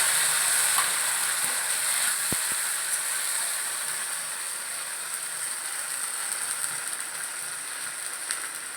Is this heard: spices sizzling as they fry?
yes